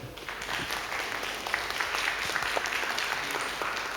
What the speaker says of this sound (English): Please give it up a round of applause for Andrew.